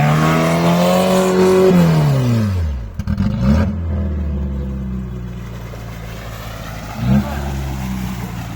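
Opel Frontera 2.0 off-road vehicle engine revving loudly, pitch climbing then dropping as the revs fall, with a brief second rev rise near the end; voices shout nearby over the engine.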